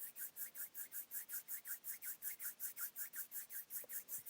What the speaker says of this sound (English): we're just going to start warming up our hands, rubbing back and forth